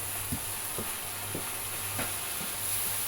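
Beef with okra in a frying pan gets stirred, a steady sizzling hiss punctuated by about five evenly spaced soft scraping strokes of the spoon.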